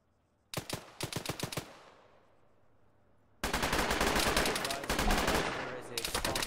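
Gunfire in an Arma military simulation operation: a rapid string of nearby automatic shots that dies into a fading echo, then a loud, sustained fusillade of overlapping fire.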